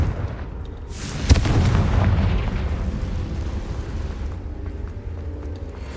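A Confringo blasting spell detonating in the video game Hogwarts Legacy, one sudden loud boom with a crackling burst that rolls into a lingering rumble and slowly fades.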